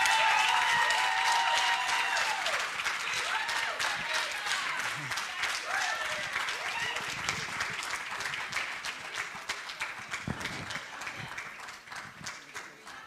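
An audience applauds to welcome an award-winning speaker at a women's leadership forum in Africa, with sustained dense clapping that starts loud and gradually thins and fades toward the end, with some background voices.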